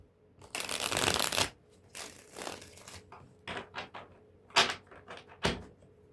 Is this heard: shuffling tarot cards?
yes